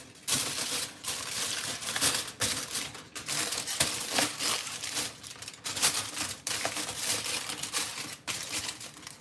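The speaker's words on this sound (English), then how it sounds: "I take a cooling rack, I put some aluminum foil over it" Aluminum foil crinkles and rustles as it is pressed over a metal cooling rack, with a steady run of close, crackly handling noises and sharp crumpling bursts lasting throughout.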